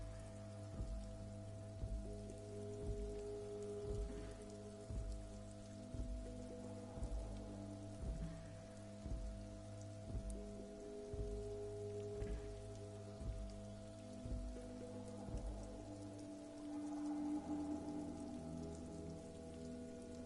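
Steady rain pours on surfaces in the rainy Disco Elysium game world, a continuous dense patter over low ambient music with a repeating rhythmic pulse, no voices present.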